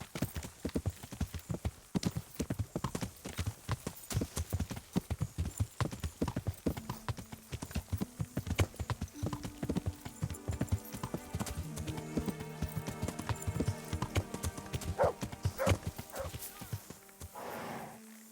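Horse hooves clip-clop steadily and rhythmically as a rider travels in the video game Kingdom Come: Deliverance, fairly loud and close, with a brief neigh and sustained game music tones rising in the later part.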